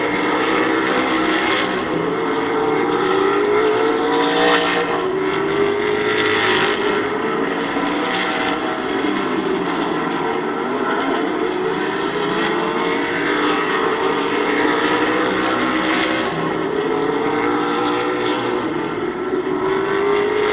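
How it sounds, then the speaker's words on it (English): Several race car engines drone and whine continuously at close range on an oval speedway, pitches rising and falling as cars circle past, loud and unbroken, with one car sounding off. "one of the cars sound ill. It almost sounds like it's Tedesco's."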